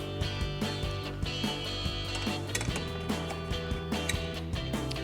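A ratchet socket tightens 13mm bolts on a 2019-2025 Silverado 1500 rear bumper with repeated close, sharp clicking in a steady rhythm, a pause, then more ratcheting, with no talk.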